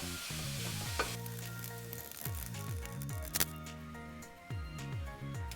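Ground beef browning in a pan over medium-high heat, with a steady close sizzle throughout, punctuated by a few clinks and scrapes as it is stirred.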